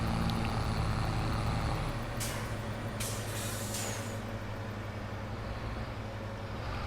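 A truck in the farming game Farming Simulator 22 rumbles with a steady, loud low engine drone, while three sharp air-brake hisses burst out in quick succession over it.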